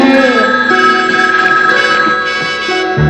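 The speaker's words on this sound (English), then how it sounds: "When the phone rings, answer it." An old-fashioned telephone bell ringing in a vintage Green Hornet radio serial, a sustained metallic ring with a steady tone running continuously at loud level over background music.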